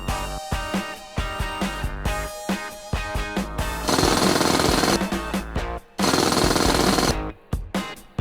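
A power screwdriver backs screws out of a drone body, giving a whirring motor buzz that starts and stops in short bursts and then runs in two longer, louder pulls, all close up.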